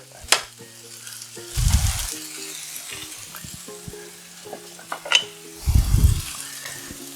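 Sausage frying in a pan while a utensil breaks it apart, a steady close sizzle broken by two loud scraping pushes and a few sharp taps.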